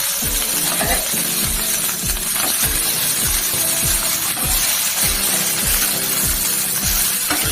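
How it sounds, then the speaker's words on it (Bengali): Bata fish frying in hot oil in a pan, a steady close sizzle running throughout with regular soft tapping or stirring knocks against the pan every half second or so, no talking. "ব্রাউন হয়ে ভাজা হচ্ছে"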